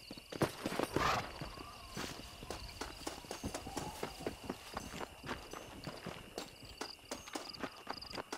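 Horse hooves clip-clop in a steady rhythm through the Red Dead Redemption video game, moving from a walk into a quicker gait, moderately close, with no talking.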